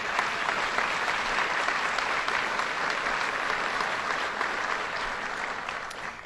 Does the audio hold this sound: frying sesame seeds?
no